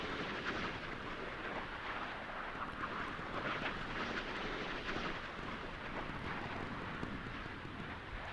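Naval cannons on a warship in Sea Power blast out point defense fire against air contacts off Kharg Island, a dense rumbling barrage of overlapping shots under wind-like noise, fairly faint and continuous.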